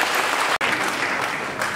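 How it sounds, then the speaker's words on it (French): An audience at a political opposition convention bursts into dense clapping, loud and sustained with a brief break, filling the hall alone. "je vous demande s'il vous plaît de l'applaudir."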